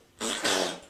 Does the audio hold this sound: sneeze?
yes